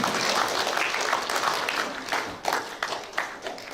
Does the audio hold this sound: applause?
yes